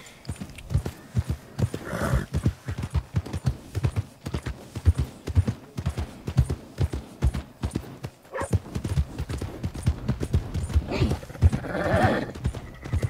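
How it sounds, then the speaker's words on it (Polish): Horse trotting in Red Dead Redemption 2, fast rhythmic hoofbeats close and loud throughout, with snorts and whinnies breaking in around the two-second mark and again near the end. "Koń się wkurzył, bo mu za późno powiedziałeś, żeby skręcił."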